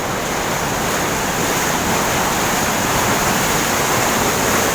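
Water rushes loudly and continuously through the Selokan Mataram irrigation channel in Yogyakarta, a dense, unbroken roar with no voices over it.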